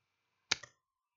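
A computer mouse gives a single close, crisp click with a quick double snap in an otherwise quiet room during AutoCAD drafting.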